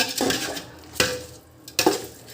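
A spoon stirs soaked rice with masalas in a pot for chicken pulao, scraping and clinking against the metal in a few distinct strokes, close and moderately loud with no talking.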